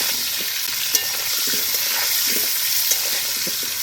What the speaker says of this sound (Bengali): দুধগুলো দিয়ে নেড়ে নেব আলুটা